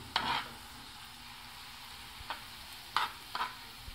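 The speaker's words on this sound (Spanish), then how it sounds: "Vamos a refritar un poquito. Vamos a entreverar." Garlic for garlic shrimp sizzles faintly in a pan over a low, steady hiss, with a few short scraping stirs now and then and no voices.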